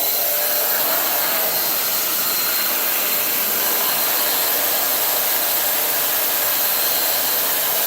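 A party balloon being blown up with an electric inflator, giving a loud, steady, close blowing whir that runs unbroken with no talking.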